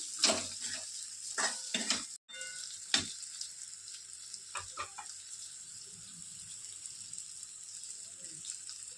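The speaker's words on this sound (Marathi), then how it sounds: "भेंडी फ्राय करताना गॅसची फ्लेम मीडियम ठेवा" Okra frying in a pan over a medium gas flame gives a steady close sizzle, with a few sharp stirring scrapes and clatters early on before it settles into a quieter, even hiss.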